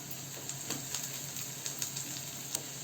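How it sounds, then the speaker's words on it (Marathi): Chopped onion sautéing in oil in a pan over a medium gas flame, a steady close sizzle with occasional brief crackles and stirring clinks, no voices. "तर मीडियम गॅसवर आपण हा कांदा चांगला परतून घेऊ."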